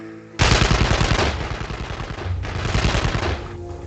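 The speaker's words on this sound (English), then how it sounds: "Or let the gun turrets do it." Gun turrets in the Evil Genius video game fire sustained rapid bursts, loud and dense, with a short break in the middle before firing resumes.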